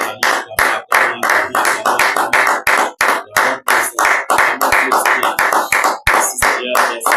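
A church congregation claps in a fast, steady rhythm to acclaim the Lord, sharp loud hand claps repeating close and clear with little else heard.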